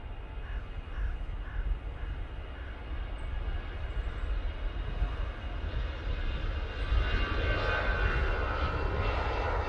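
A plane lands at Manchester Airport, its engine roar loud and steady at a distance and swelling into a broader rumble toward the end, with no talking over it.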